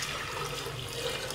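Water poured into a jar holding pineapple peels and sugar for tepache, a steady close-up splashing and gurgling stream without pause.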